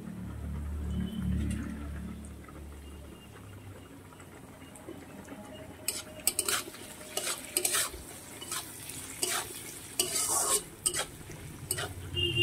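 Spices, salt and turmeric, being stirred into a cooking pot with chickpeas, heard first as a low simmering rumble and then as a run of sharp, close scrapes and clinks of a utensil against the pot.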